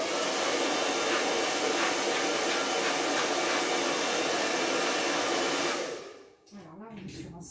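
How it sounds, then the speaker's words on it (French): A hair dryer blows steadily with a loud, broad rushing whoosh, then cuts off near the end leaving faint rustling. "je mets un tout petit coup de chauffe"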